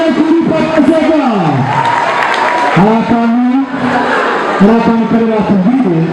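A live crowd applauds and cheers at a Rwandan stage show, a loud, sustained wash of clapping and shouts beneath a singing or chanting voice.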